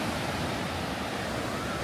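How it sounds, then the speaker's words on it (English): Surf on the cold Atlantic shore, a steady broadband wash of breaking waves rolling continuously up close, with some wind rushing over the microphone and no voices. "We're going to touch the cold Atlantic Ocean"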